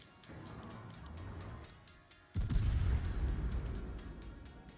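Heavy cruiser gunfire in World of Warships from a Baltimore, a tier 8 American heavy cruiser; a low rumbling roar of distant shots gives way to a sudden loud booming salvo that rolls on and decays.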